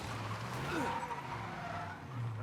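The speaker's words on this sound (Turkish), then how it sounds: "araba durmuyor, araba kayıyor" A car skids with a long tire squeal and a steady engine roar in the Mafia video game. The sound is loud and continuous throughout.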